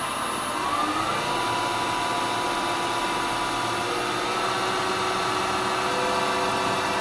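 A wood lathe spindle spins at 2,500 RPM while a resin bowl is being turned, a steady, loud whine and hum that holds unbroken from start to finish with no voices.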